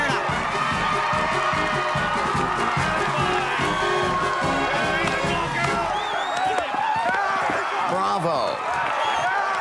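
A large homecoming crowd at a school basketball game cheers and shouts loudly and continuously, with voices, whoops and court noise blending into a dense roar throughout.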